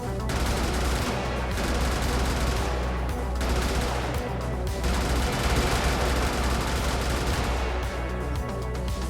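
Gunfire in the game Brigador, a relentless loud stream of overlapping shots and blasts that never lets up, dense and close throughout.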